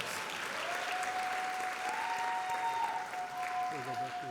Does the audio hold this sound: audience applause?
yes